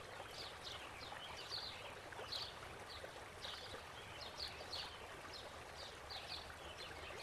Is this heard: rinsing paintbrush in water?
yes